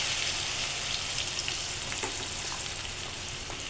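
Chicken cooking with coconut milk and malunggay sizzles and bubbles in a pan, a dense, steady crackle close up that fills the whole stretch with no voices.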